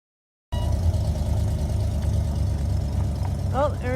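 After a brief silence a vehicle engine with a newly repaired exhaust manifold kicks in and settles into a steady, rumbling idle, close by and loud, with a short squeal near the end.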